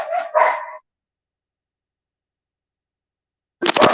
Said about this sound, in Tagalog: Ang ingay na naman ng aso.